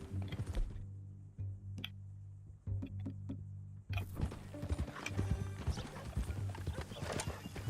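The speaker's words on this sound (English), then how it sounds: "That a new horse?" Horse hooves in Red Dead Redemption 2 clip-clop in a steady, close rhythm, dropping out briefly to a few isolated taps before resuming, with a faint whinny and ambient game sounds around them.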